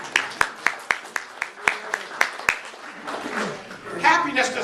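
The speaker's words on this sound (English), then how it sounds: "Let's clap for Mary" Several people clap in a steady rhythm for about two and a half seconds, a small audience's applause fading into a murmur of voices.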